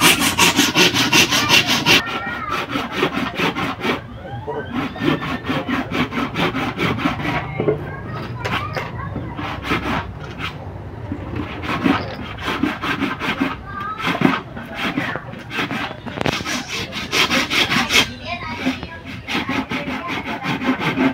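A dull hand saw rasps through wood for small stool legs in steady back-and-forth strokes, rough and scraping, continuing for a long stretch with brief pauses.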